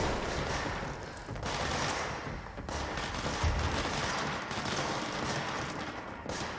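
Heavy gunfire in the action game Control pours out continuously, a dense, loud barrage of rapid shots with brief dips around the middle before the shooting resumes just as thick.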